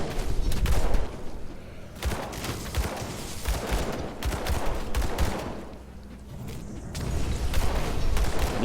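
Gunfire in the action RPG Grim Dawn, steady rapid shots crackling over dense battle noise with booming impacts, loud and continuous across the whole stretch.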